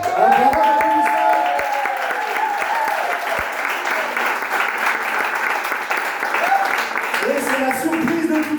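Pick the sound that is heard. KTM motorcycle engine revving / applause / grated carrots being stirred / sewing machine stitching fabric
applause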